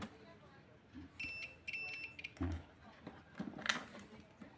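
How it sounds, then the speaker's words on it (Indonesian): Short multimeter continuity buzzer beeps sound a few times in quick bursts, faint and close, while testing for shorts in a dead Polytron Cinemax PLD 32T711 TV, amid quiet handling noises and muffled talk. "kalau diukur pakai buzzer, kalau bunyi menandakan dia short ya"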